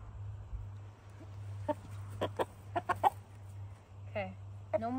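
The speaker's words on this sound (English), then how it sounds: "I don't want no mean roosters on the homestead" A rooster on a homestead gives short, sharp clucks and chirps in sparse bursts over a steady low hum, fairly close and moderately loud, with no talk.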